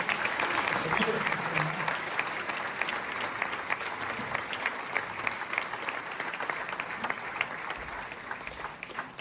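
A crowd applauds steadily for several seconds, a dense wash of clapping that stays loud throughout, at a school inauguration ceremony in Beaucaire, France.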